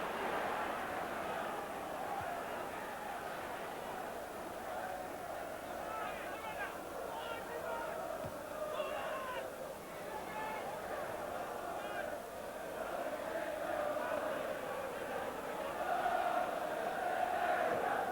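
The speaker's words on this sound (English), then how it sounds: "The crowd singing that you only sing when you're losing." A football stadium crowd chants "you only sing when you're losing" as a steady, distant mass of voices, with a commentator speaking over it.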